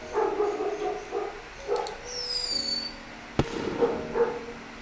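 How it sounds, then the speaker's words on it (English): Fireworks set off for a funeral in the video game Firework: a rising whistle streaks upward, followed by a single sharp, close bang over a low background of tonal sound. "According to the custom here, there will be fireworks at the funeral."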